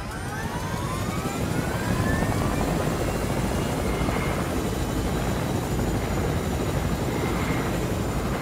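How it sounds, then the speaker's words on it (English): A helicopter in the video game Fortnite, its loud, continuous rotor roar and whine sustained close by throughout, with sweeping tonal shifts early on and no talking over it. "Get to the helicopter."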